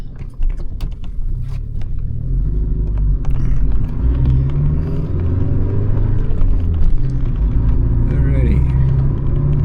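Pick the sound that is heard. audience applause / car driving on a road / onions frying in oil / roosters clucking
car driving on a road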